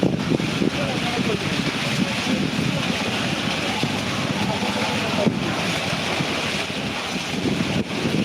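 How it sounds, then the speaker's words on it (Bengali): A storm in Sylhet with strong wind and rain gives a continuous loud roar of wind buffeting the microphone and rushing rain, close and unbroken throughout. "এই যে বৃষ্টি আবার কম ছিল, বাতাস বাড়ছে, আবার বৃষ্টিও বাড়তেছে।"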